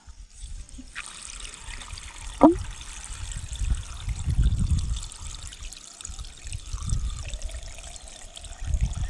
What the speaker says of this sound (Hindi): गाइस कम पानी आया है, आधा मुँह पानी दे रहा है